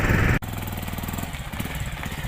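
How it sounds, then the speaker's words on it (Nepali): Motorcycle engine idling steadily during a beginner riding lesson, a close, even putter running alone after an abrupt change in the first half second. "एक्सिलेटर क्लच बराबर दिइसकेपछि बाइक स्टार्ट हुन्छ।"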